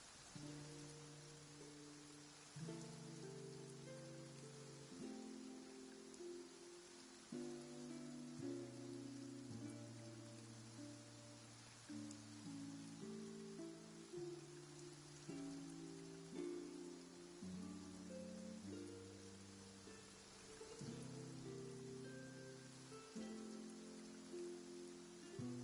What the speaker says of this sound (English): Rain. It's raining.